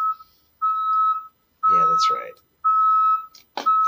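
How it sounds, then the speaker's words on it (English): A truck right outside a window beeps in long, steady, high-pitched tones, three of them evenly spaced, loud and close, while a person speaks briefly between and over the beeps. "Sorry about the beeping. That's a truck right outside my window."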